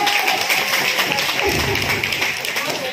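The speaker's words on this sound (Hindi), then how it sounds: "तो जोरदार तालियों से मैं आपको बधाई देती हूँ आपकी रिटायरमेंट लाइफ की" Dense, continuous applause fills a room at a retirement farewell for a father, loud and steady for the whole stretch, with many hands clapping together.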